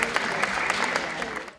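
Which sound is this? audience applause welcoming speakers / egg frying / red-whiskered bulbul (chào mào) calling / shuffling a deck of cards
audience applause welcoming speakers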